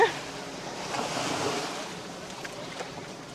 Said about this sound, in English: let's take a walk on the beach